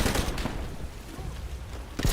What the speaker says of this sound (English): I hear gunfire, and I'm not quite sure where it's coming from